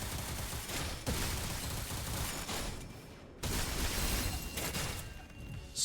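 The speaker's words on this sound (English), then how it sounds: "They're just shooting Greg. Shooting everybody." Guns fire in the video game Limbus Company, a continuous crackling volley that breaks off briefly near the middle and then resumes at the same steady, moderately loud intensity.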